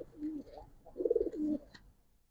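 Close pigeons, racer and coloring giribaz birds, give two low rolling coos, a short one followed by a longer, louder throbbing call, with no talking.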